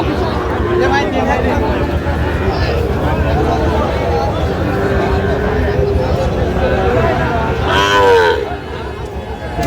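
Cattle, including a Sahiwal bull, moo loudly and repeatedly nearby at a cattle market in Chandpur, their low calls overlapping over a background of crowd murmur and voices throughout.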